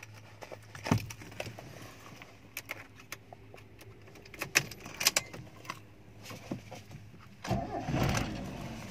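A 2004 Mazda E2000 van starts up after a few quiet clicks and key sounds, the engine cranking and catching near the end with a short rising roar, recorded close and at low level with no talking.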